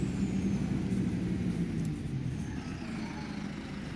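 An Optare Solo bus engine in OMSI 2 holds a steady low rumble and drone, easing slightly softer toward the end, with no talk.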